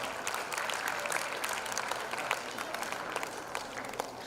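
Audience at an international school's annual prize day applauding prize winners: a steady, dense patter of many clapping hands, moderately quiet and heard from a distance, sustained evenly throughout.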